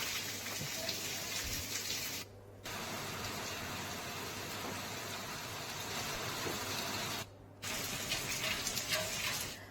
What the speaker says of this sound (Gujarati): વહેલી સવારે ઉનામાં ધીમી ધારે વરસાદ શરૂ થયો।